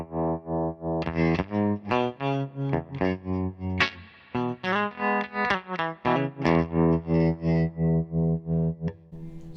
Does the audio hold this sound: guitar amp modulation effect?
yes